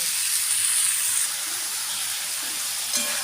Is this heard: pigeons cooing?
no